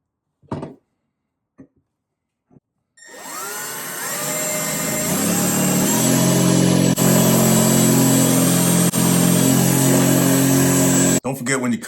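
Loud, sustained whine of a step drill bit cutting into a 1/8 inch metal piece, starting after a few quiet taps and running steadily for about eight seconds before stopping abruptly.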